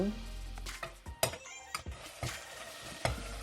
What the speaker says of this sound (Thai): แล้วก็ผัดให้เครื่องเข้ากันดีกับหมู